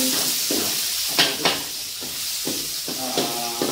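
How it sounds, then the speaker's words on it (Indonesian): Garlic frying in hot oil in a pan for beef tongseng gives a steady close sizzle, with a rhythmic stirring scrape about every half second and a couple of sharper utensil knocks. "masukkan bawang putih"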